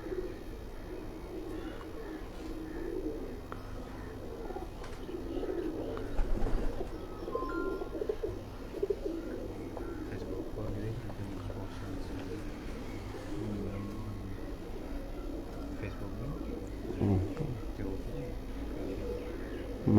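Kasuri pigeons coo softly in low repeated calls amid faint chirps and light background noise, with occasional distant traffic.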